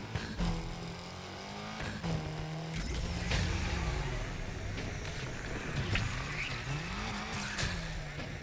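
A car accelerating in the racing video game Need for Speed Unbound: a rising and falling engine whine that shifts repeatedly, with occasional tire squeal, under excited voices talking throughout.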